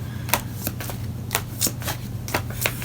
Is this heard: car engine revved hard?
no